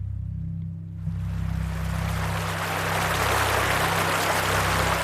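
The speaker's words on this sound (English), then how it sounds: "Magpie can hear water rushing nearby as she and Lucas trample through a large field." Steady rushing water from a river flows loudly and continuously, a broad wash of noise that swells in after a brief quiet start, with a low hum underneath.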